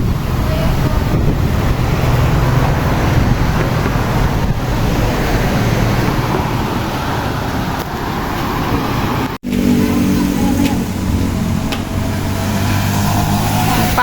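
Steady outdoor wind roaring and buffeting close to the microphone, with a brief dropout partway through, continuous throughout.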